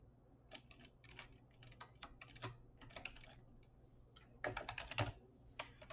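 Typing of keyboard shortcuts on a computer keyboard during spreadsheet work, a quiet irregular stream of key clicks with a denser cluster of keystrokes near the end.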